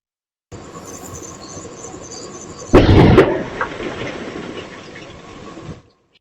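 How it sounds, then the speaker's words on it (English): A house explosion in Goodyear, Arizona, caught on a home security camera: steady outdoor background noise, then a sudden loud blast with a rumbling roar that slowly decays over a few seconds. "A neighbor capturing that blast on her home security camera."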